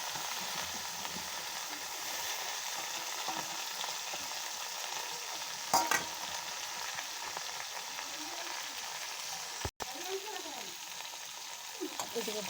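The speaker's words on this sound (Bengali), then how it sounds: "বেশ সুন্দর লাল লাল করে ভাজা করবো এটাকে" Whole cumin seeds fry in hot oil in a pan, a steady close sizzle running through the clip with a few brief clatters of stirring.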